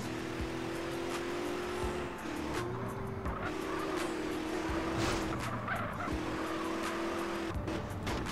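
A car in GTA San Andreas drives with a steady engine drone, broken by repeated tire squeals and skids that rise and cut off several times.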